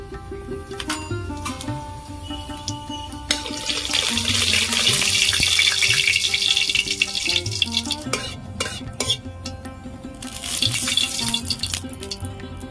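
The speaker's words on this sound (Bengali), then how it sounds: "তেল গরম হয়ে গেছে, একটা শুকনো লঙ্কা, গোটা জিরে" Dry red chilli and whole cumin crackle in hot oil for a Bengali tomato chutney, with close, bright sizzling, scattered clinks and stirring of the pan that swell in the middle and again near the end.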